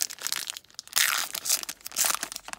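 Foil pack of 2020 Bowman baseball cards being torn open up close: bursts of crinkling, crackling wrapper and short tearing rips, no voices.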